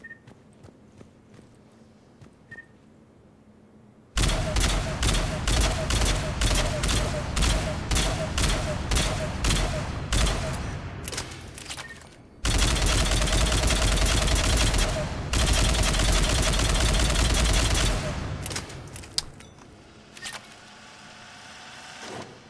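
Phaeston assault rifle in Mass Effect 3 fires at long-range targets in two long runs of rapid automatic shots, loud and crisp, separated by a brief pause and trailing into a few scattered shots.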